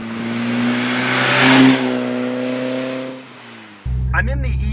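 A 1980s E30 BMW M3 engine pulls hard, its rising harmonic tone climbing steadily, peaking, then dropping into a brief lull before a rougher burst of revs and voices over it at the end.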